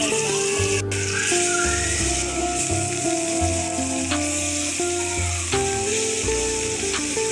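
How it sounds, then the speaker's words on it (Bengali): Dried fish fries in a little hot oil in a frying pan, a loud, continuous crackling sizzle with occasional stir clicks, while tonal background music plays underneath and no one speaks. "আমি ফ্রাই প্যান দিয়েছি, এখন মাছটা ভাজার জন্য তেল দিই।"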